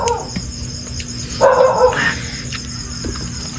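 A dog barks a couple of times at a distance over a steady outdoor background hum, with a faint bird chirp nearby.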